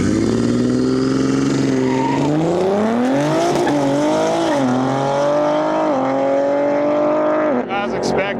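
A BMW and a V8 Jeep Rubicon drag race on a sketchy surface, loud engines climbing through rising revs with gear-change dips and a brief tire squeal near the end, while a commentator talks over it.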